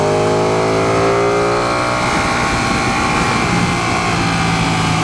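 A 2016 Ducati 959 Panigale motorcycle engine pulls hard on a freeway in fourth gear, its rising tone climbing steadily over loud, continuous wind roar close to the rider.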